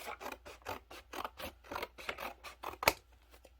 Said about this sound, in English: So now you've got the right size book cover for your pages. So you cut it out.